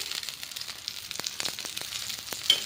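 Oil sizzles steadily around a rava uttapam on a hot pan, a continuous close hiss with small crackles scattered through it.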